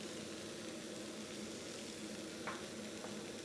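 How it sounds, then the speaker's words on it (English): Tofu searing in its marinade in a hot pan, a steady, soft sizzle with a couple of faint clinks from stirring. "So when I'm searing it, I sear it with that flavour or that marinade round there."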